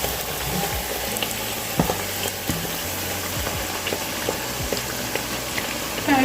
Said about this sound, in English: this doesn't take very long to fry because the dough is so thin.